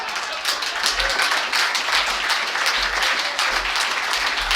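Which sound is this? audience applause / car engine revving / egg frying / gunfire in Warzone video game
audience applause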